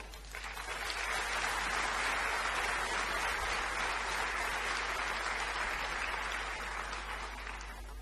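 A large audience at an honorary doctorate ceremony bursts into sustained, dense applause that swells within the first second and holds at an even, loud level throughout, with no voices on top.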